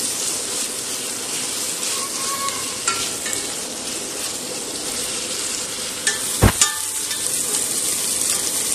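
Onions and tomatoes fry in hot oil for a chicken curry, a steady broadband sizzle running throughout with occasional spoon scrapes and clinks as they are stirred, one sharper knock near the end.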